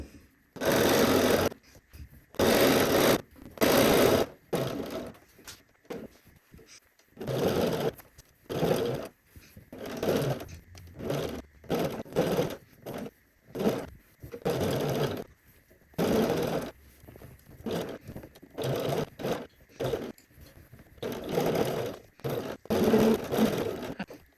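A sewing machine stitches around a shirt neckline in many short bursts, starting and stopping repeatedly at close range with brief pauses between runs.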